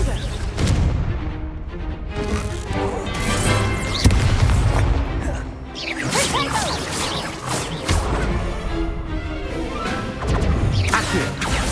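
Repeated blasts and crashes of the Confringo fire spell in the Hogwarts Legacy video game, loud booms and smashing impacts in a busy combat mix with continuous effects throughout.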